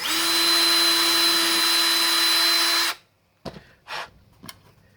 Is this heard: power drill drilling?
yes